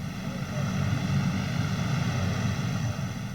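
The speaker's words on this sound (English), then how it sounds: "personnel, as well as material, are flown in by transport aircraft." A military transport aircraft drones steadily overhead during a NATO Reforger exercise in 1987, its engine hum even and moderately loud throughout, with no talk.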